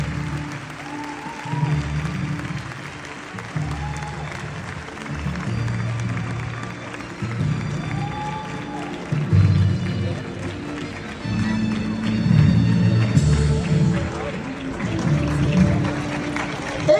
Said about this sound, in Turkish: Evet, bütün ekip alkışlarla harika.